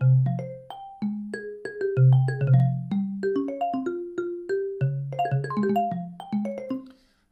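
A plucky synthesized melody from a polyrhythmic sequencer steps through repeating note patterns, one part in 2 and one in 5, interlocking in a steady, mechanical, minimalist sequence with no voices.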